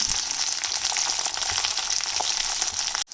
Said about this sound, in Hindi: I am not deep frying, I am just shallow frying it.